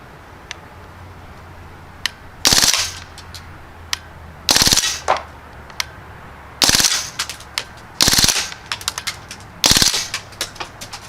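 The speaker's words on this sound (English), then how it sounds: "try a little bit of full auto on those K-cups" Crosman Panther Arms DPMS BB rifle firing full-auto bursts at K-cups: five sharp, loud rattling bursts spaced a couple of seconds apart, with faint ticks and quiet outdoor background between them.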